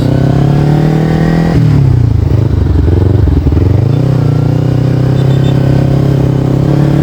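A used motorcycle's engine idles with a round, bassy burble, then is revved up and eased back before settling to idle again, loud and close with mechanical clatter and no talking.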